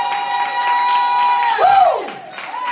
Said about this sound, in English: clap your hands and give God a great shout of praise